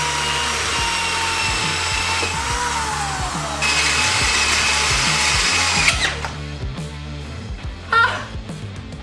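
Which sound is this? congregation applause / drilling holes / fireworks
drilling holes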